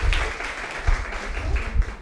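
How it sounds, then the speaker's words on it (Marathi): An audience applauds for the people who drew pictures at a Janmashtami gathering, with a steady patter of clapping from a crowd that rises in a few bursts over two seconds and no voices on top. "तर त्या सगळ्या चित्र काढणाऱ्यांसाठी आपण टाळ्या वाजवू"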